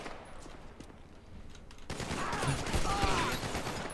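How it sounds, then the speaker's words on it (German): Gunfire in GTA V with the LSPDFR police mod: steady rapid bursts of shots crackle through the game's background noise and grow louder partway through. "So viele Schüsse, wie der schon gefeuert hat."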